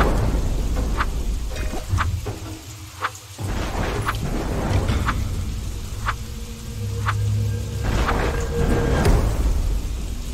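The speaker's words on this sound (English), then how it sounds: "at that moment, it starts to rain" Rain beginning to fall in a jungle, a steady wash of drops with rumbling low gusts and scattered sharp splashes, heard alone with no voices.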